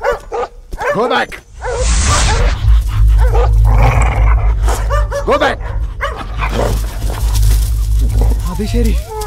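Dogs bark and yip repeatedly at close range in an excited, chaotic burst, mixed with loud overlapping speech from people in a film scene.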